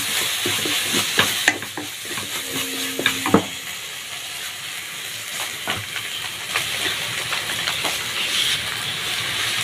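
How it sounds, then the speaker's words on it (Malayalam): Green chili sauce is stirred into a sizzling dish, a steady frying hiss running throughout with scattered scrapes and clinks of a spoon against the pan, fairly close and unaccompanied by talk. "ഇവിടെ ചേർത്തൊന്ന് നല്ലതായിട്ടൊന്ന് മിക്സ് ചെയ്ത് കൊടുക്കാം"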